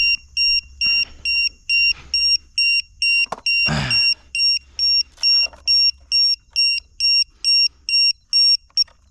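A battery tester set to 3.3 volts on a 3S battery sounds a steady run of short, shrill electronic beeps at an even pace through the clip. One louder broadband burst of noise cuts in near the middle.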